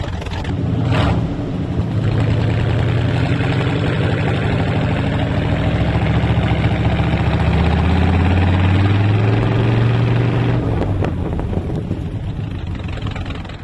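A 1980 Chevy C30 flatbed truck engine idles steadily with a deep, throbbing rumble, close and loud, continuing without a break.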